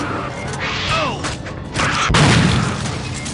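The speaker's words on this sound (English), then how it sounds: "Shotgun's pretty effective." Shotgun blasts boom in Aliens versus Predator 2 as a Colonial Marine fires, two or three heavy close thuds among mechanical game noise, with voices and creature sounds mixed in.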